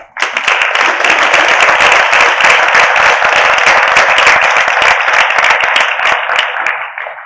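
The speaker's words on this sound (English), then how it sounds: "So give yourselves a round of applause for being here today." Sustained audience applause fills a festival opening hall, dense and loud, many hands clapping steadily for about seven seconds before tapering off at the end.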